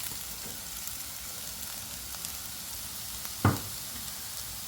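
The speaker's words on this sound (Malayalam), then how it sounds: "ഇതിലേക്ക് ചിക്കൻ ചേർത്ത്" Chicken sizzles steadily in a hot frying pan, a constant close crackle with one brief clank of cookware partway through.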